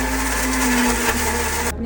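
A kitchen mixer grinder blends fresh mint leaves and coriander, a steady loud whirring motor drone that runs continuously before cutting off abruptly near the end.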